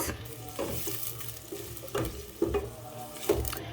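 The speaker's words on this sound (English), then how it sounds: "So I added my onion now. Stir it a little bit." Onion stirring and frying in red palm oil, a continuous close sizzle broken by several sharp spoon scrapes and knocks against the pan at irregular intervals.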